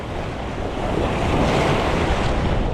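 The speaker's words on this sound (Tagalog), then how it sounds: "Malaki ng alon." Loud, continuous roar of big ocean waves crashing during shore fishing, with heavy wind buffeting the microphone, swelling slightly midway.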